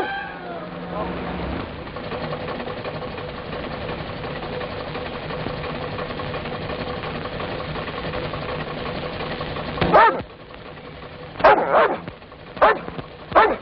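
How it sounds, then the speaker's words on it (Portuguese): A dog barks about four times in quick, loud bursts near the end, after a long stretch of steady low engine rumble. "Coronel tá latindo."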